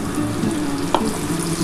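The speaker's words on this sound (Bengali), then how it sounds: "এবার আমি মশলাটা দিয়ে দিচ্ছি, তোমরা দেখতে থাকো।" Spices dropped onto cauliflower and potato frying in a pan, giving a loud, dense, continuous sizzle with one brief sharp tap partway through and no voices.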